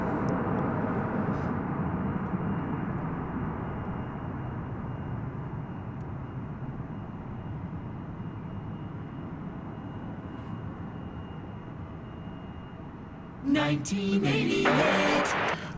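A passenger airplane on the runway at Dallas Fort Worth airport at night, a steady distant engine roar lasting throughout, with a louder burst of noise near the end.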